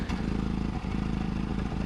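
A Ford Focus engine with freshly set timing idles roughly with a misfire, a steady uneven thrumming pulse broken by irregular stumbles, close and alone without talk.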